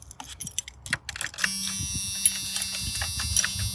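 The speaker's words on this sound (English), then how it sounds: "All right, I got the keys." Keys for a 1992 Chevrolet conversion van jangling and clicking in the hand, a few light metallic rattles close by, then a steady mechanical whine underneath.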